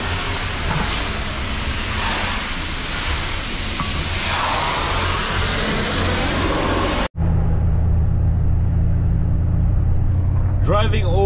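A car driving along, a steady loud rumble of road and engine noise inside the cabin, then a sudden cut to a lower, quieter drone with a brief high chirp near the end.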